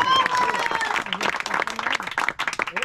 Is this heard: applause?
yes